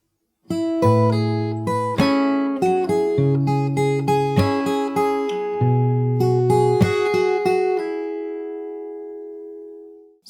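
Fingerstyle acoustic guitar plays a variation of a song, a steady run of plucked melody notes over bass notes, close and clear, ending on a long ringing chord that fades out.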